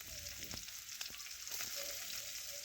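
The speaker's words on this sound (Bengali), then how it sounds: "এখন পেঁয়াজ একটু নাড়াচাড়া করে ভালোভাবে একটু ভেজে নেব" Chopped onion fries in hot oil with a bay leaf and whole cumin, a steady close sizzle with a few light stirring scrapes.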